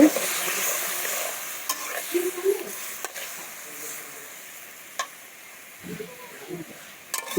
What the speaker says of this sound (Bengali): মিষ্টি কুমড়া ভাজা হয়ে গেছে আলুটা ভেজে নিব